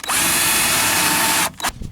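A power drill bores out the rivets of a car's power window regulator assembly, running at a loud, steady whine for about a second and a half before cutting off. A few rough bursts follow as it catches and stops.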